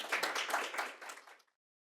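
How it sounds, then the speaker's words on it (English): One person claps hands at an online midwifery education meeting, a quick run of about a dozen close, bright claps that fade out and stop abruptly, leaving silence. "There, you caught me clapping"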